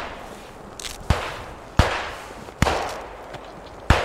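Sharp gunshots in a World War II video game battle at Oosterbeek, four or five loud cracks spaced about a second apart, each with a short echoing tail over a low background rumble.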